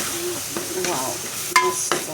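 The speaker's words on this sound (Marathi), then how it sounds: "मसाला घेते जरा परतून आणि मग हळद टाकायची." Masala with salt and turmeric being sautéed in a pan, a steady close sizzle with scraping stirs and a few sharper clinks of the spoon against the pan.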